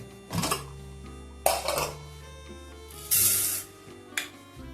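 Dry lentils (dal) poured from a bowl into a pressure cooker in a home kitchen, giving several short bursts of rattling, hissing patter, each a second or so long, separated by quieter moments.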